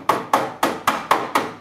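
Six evenly spaced sharp metallic hammer strikes ring out alone as a hammer beats car sheet metal against a body dolly, flattening the radiator core support area of a 1965 Ford Mustang.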